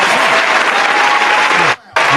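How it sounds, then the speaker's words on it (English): An audience at a talk show breaks into loud, dense applause that cuts out briefly near the end before resuming. "let's give her a round of applause"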